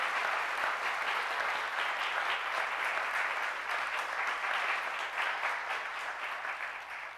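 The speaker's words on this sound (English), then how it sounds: "So please, let's give a round of applause to Dr. Sherry Miller." Steady, dense applause from a large audience fills the space, a continuous wash of many hands clapping that eases slightly toward the end.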